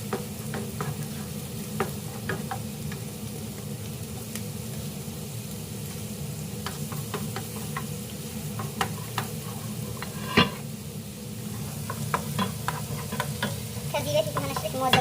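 Onions fry for shiro in a pan with a low, continuous sizzle, punctuated by frequent scraping and tapping clicks from stirring, fairly close.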